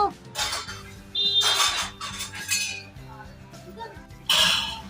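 A lid goes onto a cooking pot of Bhogi mixed vegetable dish, with water set on top, making several sharp metallic clinks and clatters spread across a few seconds, with faint kitchen noise between them.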